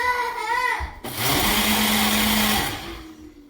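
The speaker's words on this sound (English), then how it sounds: "spinach doesn't take much when you're blending it" A countertop blender whirs steadily as it blends a fruit smoothie with spinach, running loud and close for about two seconds after brief talk, then winding down.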